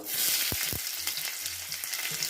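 Panch phoron and dried red chillies sizzle in hot oil, a bright steady frying hiss with a couple of soft knocks and light stirring underneath.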